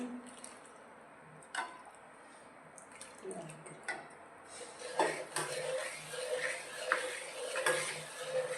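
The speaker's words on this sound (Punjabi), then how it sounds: "ਆਪਾਂ ਥੋੜੀ ਥੋੜੀ ਕਰਕੇ ਚਾਸ਼ਨੀ ਜਿਹੜੀ ਪਾਵਾਂਗੇ ਇਹਦੇ ਵਿੱਚ" A spoon scrapes and stirs through a besan barfi mixture in a pot as hot sugar syrup is added bit by bit, with soft clinks and scraping under a faint sizzle, close by.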